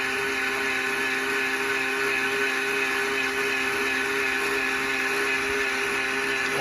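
A garden tiller engine runs at a steady, unchanging speed, a close and continuous drone with a constant tonal hum and no voices.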